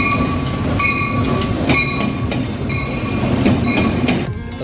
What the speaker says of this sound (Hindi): रेल कार आ चुकी है